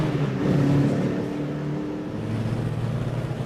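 A Renault R8 Gordini accelerates with a steady, rising engine drone, loud and close, heard alone for a few seconds.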